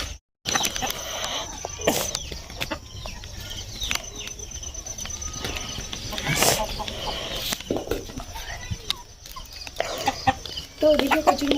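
Hens cluck and squawk in a Sundarbans village yard as they are gathered up and herded indoors. The calls are close and repeated, with brief sharp squawks and wing flutters over a busy household background.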